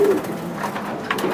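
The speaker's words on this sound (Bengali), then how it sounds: "কত সুন্দর কোয়ালিটি ফুল কবুতর" A racer pigeon gives a short, low coo near the start, followed by quiet background room noise.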